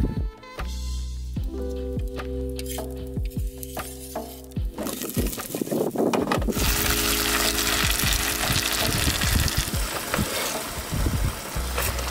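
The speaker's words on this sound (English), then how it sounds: "I can hear a yellow lip emperor cooking on the fire in the background" Yellow lip emperor fish cooking over an open fire at a beach camp kitchen, a steady close sizzle and crackle with occasional clinks and rattles, growing louder partway through and continuing without talk.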